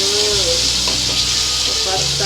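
Tomatoes frying in a pan as they are stirred for a Maharashtrian drumstick and potato bhaji, with a loud, steady sizzle throughout, scraping stir sounds and a voice talking over it.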